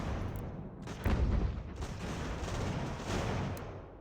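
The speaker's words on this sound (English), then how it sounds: "Are you guys firing on them?" Dense gunfire and cannon blasts from a battle in Ultimate General: American Revolution, a continuous rumbling barrage with overlapping musket volleys and heavy booms, loud and without talking.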